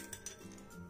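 Two or three ice cubes clinking into a drinking glass, quick faint glassy taps close by, with no voices.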